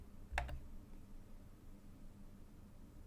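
A single computer mouse click, or a quick double click, comes early in a quiet room, faint and close, with a low hum underneath and no one speaking.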